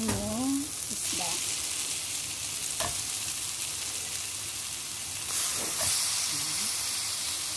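Fish goes into a Kerala fish curry with coriander, chili powder and turmeric, setting off a loud, continuous frying sizzle close up that stays steady throughout, with a few faint clinks and scrapes of stirring.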